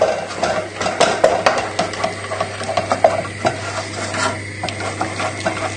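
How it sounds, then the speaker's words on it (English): Milk being stirred into a creamy mixture for a lamb shanks dish, with a spoon scraping and clinking against the pan in quick irregular strokes over a low steady hum. "Stir it in."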